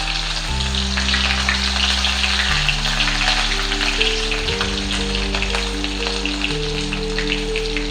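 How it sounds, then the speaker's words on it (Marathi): Cumin seeds crackle in hot oil as a tempering for kanda poha, a dense, steady sizzle with fine pops running throughout beneath a loud musical backing, no speech. "जिरं चांगलं तडतडतंय"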